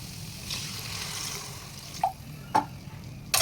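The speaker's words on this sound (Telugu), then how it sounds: "ఇప్పుడు దీంట్లోకి సరిపడా వాటర్ తీసుకోవాలి ఇప్పుడు వాటర్ తీసుకుంటాను" Water poured into a pan of black-eyed pea curry, a soft continuous pour followed by a few sharp clinks of a vessel against the pan near the end.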